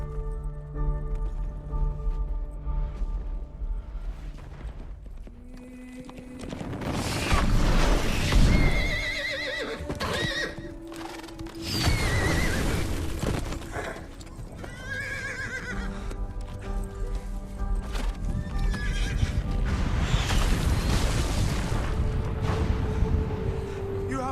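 Horses neighing and galloping in a dramatic Pompeii movie scene, loud whinnies over pounding clip-clop hooves, mixed with rumbling booms and music, with dialogue spoken over it.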